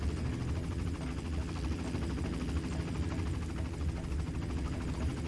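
Helicopter in Far Cry 1 idling nearby, a continuous low rotor thump and engine drone with a rapid, even pulsing and no talk.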